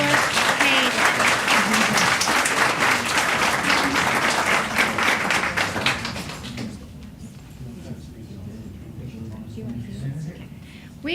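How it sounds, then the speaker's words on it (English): Audience at a school board of education meeting gives a dense round of clapping for about six seconds, then it fades into murmuring and quiet room noise. "So let's give a big round of applause for Hayden."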